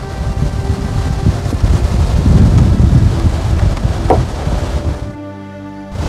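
Wind blowing outdoors across a porch, a steady loud rushing roar buffeting the microphone that eases off and briefly drops away near the end.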